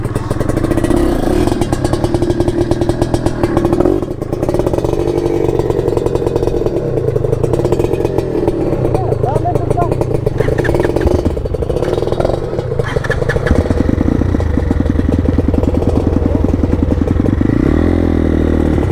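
Two blue motorcycles run close by, their loud engines droning and rumbling steadily with clattering mechanical texture, the pitch shifting slightly as they idle and rev throughout.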